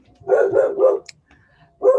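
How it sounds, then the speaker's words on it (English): A dog barks close by, three quick barks in a row, a short pause, then one more loud bark, standing alone with no talking over it. "I'll let you bark at the end, okay?"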